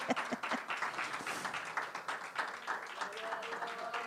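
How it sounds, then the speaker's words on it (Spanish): A church congregation applauds during a sermon on the resurrection, with dense, steady clapping that sounds fairly near and a few voices mixed in. "Vamos a aplaudirle."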